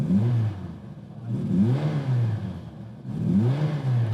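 A Honda S800 revs in three distinct bursts of a small high-revving engine, each rising and then falling back, heard close and loud with a slightly buzzy, motorcycle-like edge.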